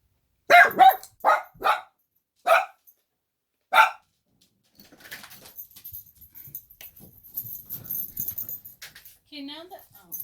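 A puppy barks in a quick burst of about five sharp, loud yaps close by, then gives way to quieter rustling and movement noise, with a brief faint sound at the end.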